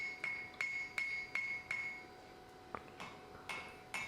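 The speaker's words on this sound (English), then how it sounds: "pop over to the bick, start rounding off that peen, and blend the weld in a bit better as well" Hammer blows ring out on wrought iron worked over the anvil bick, rounding the peen of a welded-face Viking hammer: a steady run of five sharp, ringing strikes, a short pause, then a few more loud metallic hits.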